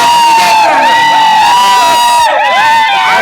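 A crowd at a bullock cart race cheers and whistles loudly and continuously, with many shrill overlapping voices whooping close by and a sudden swell of shouts near the end.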